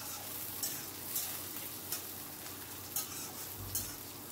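Chopped onions and panch phoron frying over high heat in a pan, with a steady sizzle under repeated scraping stirs every second or so, close and moderately loud, no voices.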